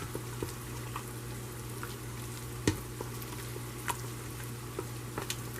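Grated Parmesan is stirred into risotto in an Instant Pot, a soft steady bubbling hiss under a low electrical hum, broken by a few faint spoon scrapes and one sharper knock.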